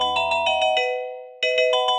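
A phone ringtone plays a quick run of bright electronic chimes, pauses briefly, then starts again, loud and close with no talking.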